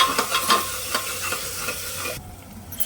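Salt being stirred into tomatoes roasting in a pressure cooker, with a spoon scraping through the mix in quick, irregular strokes over a soft sizzle that drops away near the end.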